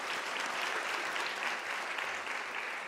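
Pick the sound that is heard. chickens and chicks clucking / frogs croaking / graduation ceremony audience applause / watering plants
graduation ceremony audience applause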